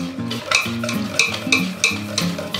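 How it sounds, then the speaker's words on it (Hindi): Semolina and potato batter whisked in a bowl for idli, giving a steady run of scraping, slapping strokes with regular rhythmic beats, close and fairly clear, with no talking. "इसे अच्छे से फेंट लेंगे। हमें इसे ना तो ज़्यादा पतला फेंटना है और ना ज़्यादा मोटा"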